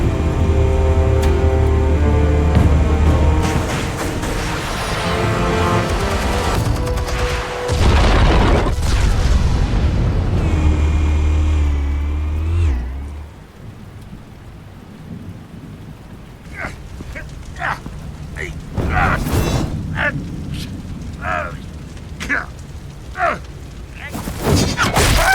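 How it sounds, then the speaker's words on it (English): Explosives detonating in the Batman Telltale Series game, with heavy rumbling booms and dense layered blasts over the first half, then quieter scattered impacts and crackling debris sounds. "Explosives armed. Fire when ready."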